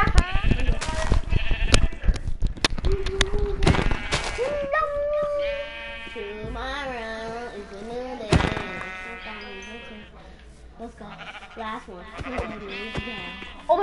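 Several wavering sheep bleats in Minecraft, loud and close, mixed with sharp bursts and game noises, with voices chattering around them.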